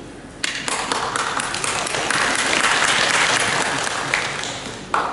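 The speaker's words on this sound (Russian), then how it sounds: "Рано хлопаете." Audience at a literary award ceremony breaking into applause, a dense, loud, sustained wash of clapping that swells after a brief start and holds to the end.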